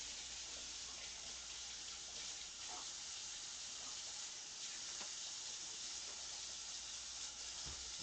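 Peppers rinsed under a running kitchen tap while hashbrowns are prepared, giving a steady, close hiss of flowing water that holds through the whole stretch with slight splashing shifts and no talking.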